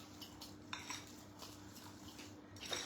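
Banana cookie dough is stirred in a bowl, with faint, steady utensil clinks and scrapes against the bowl, quiet and close, with no talking.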